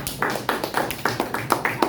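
Quick applause from a group of students in a classroom, hands clapping in a steady burst of sharp slaps, fairly close, with no talking.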